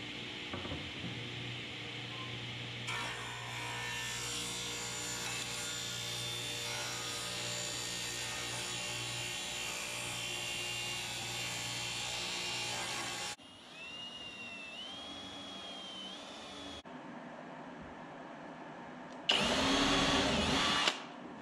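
Steady high whirring drone of a power sander working a wooden flag, running continuously with shifts in pitch and tone as it moves, ending in a short louder burst.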